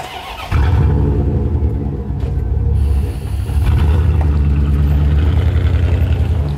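An LS1 V8 swapped into a BMW E36 is being started. After a brief quiet moment, a loud, close, low engine rumble comes in and runs steadily, dipping once briefly before carrying on.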